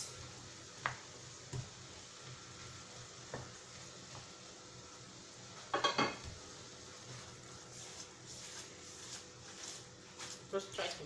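Fried rice gets stirred with a seasoning cube in a pot, soft scraping and occasional clinks of a spoon against metal under a faint background hiss, with a person talking at times.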